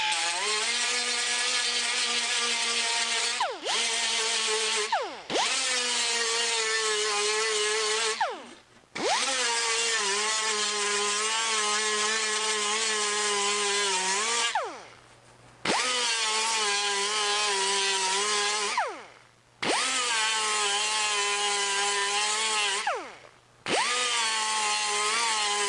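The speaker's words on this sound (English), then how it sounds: "So I put my shield on, and we'll start grinding." An angle grinder works an aluminum bonnet for a Jaguar E-Type, a loud sustained whine in long bursts broken by brief pauses as the disc spins down and is pressed back on the metal.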